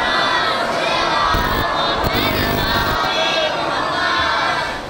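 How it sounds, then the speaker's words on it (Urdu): A large crowd at a Shia majlis gathering in an imambargah loudly chants the salawat blessing together, a dense roar of many voices rising and falling with a few sharper shouts standing out. "باواز بلند صلوات"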